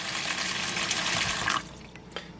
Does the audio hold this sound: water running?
yes